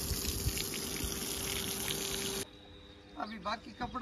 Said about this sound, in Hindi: पहले पानी मार लेते हैं थोड़ा।